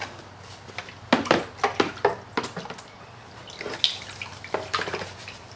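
Gold paydirt swirled in a pan of water, with repeated sloshing splashes and dribbles in an uneven rhythm, close and moderately loud, without talk.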